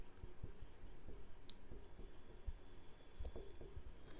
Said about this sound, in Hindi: यहाँ पर हम आएंगे और इधर लिखेंगे बिल्स रिसीवेबल्स